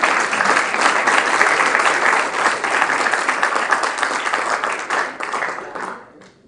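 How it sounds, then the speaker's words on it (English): An audience applauds loudly and continuously at the MKES 1st Annual Convocation Ceremony, a dense wash of clapping that holds steady for several seconds before tapering off quickly. "Please put up a thunderous round of applause while they are confirmed with the victory."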